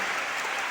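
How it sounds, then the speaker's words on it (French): A church congregation clapping and cheering during a prayer gathering, a brief dense wash of applause at steady loudness with no individual voices standing out. "acclamez très fort notre Seigneur"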